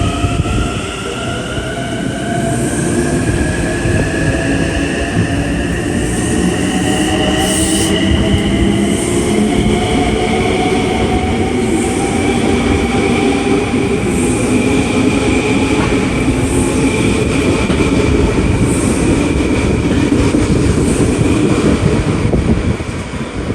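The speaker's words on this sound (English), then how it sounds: "we got a westbound train going to Long Island City." A westbound Long Island Rail Road train bound for Long Island City rumbles steadily past at close range, with rolling wheel noise and faint squeals sustained throughout.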